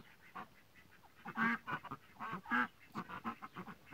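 Farm ducks quack in short nasal bursts, several calls clustered in an irregular rhythm, moderately close, with a brief spoken phrase amid them and quiet outdoor ambience.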